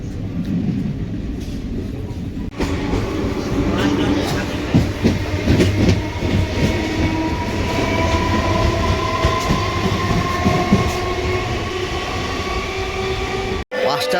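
A train, likely a Sealdah-line local, runs through Dum Dum railway station with a steady low rumble, clattering wheels and a rising metallic squeal as it passes close by, sounding loud and continuous.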